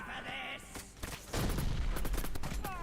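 Gunfire from a video game shootout, a dense burst of several sharp shots following an earlier stretch of game sound, loud and close, with no talking over it.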